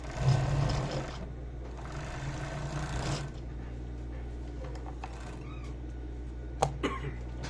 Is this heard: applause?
no